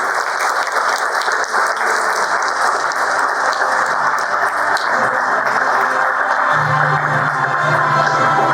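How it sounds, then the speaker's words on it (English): At a leadership awards ceremony in Oman, the audience applauds a CEO of the Year winner, with steady sustained clapping across the hall and faint background music entering toward the end. "Give a generous applause to Mr. Salim Abdullah Al-Kindi"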